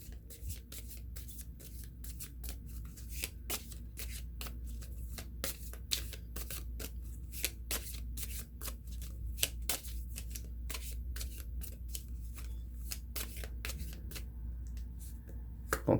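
Tarot cards shuffled steadily for a reading, a continuous run of crisp riffling snaps and slaps close by with no talk.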